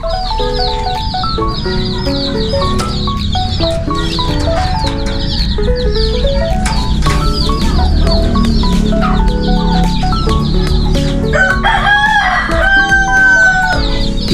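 Backyard poultry, chickens among ducks and turkeys, cluck and crow loudly and continuously, with dense overlapping calls and a steady tonal backdrop throughout.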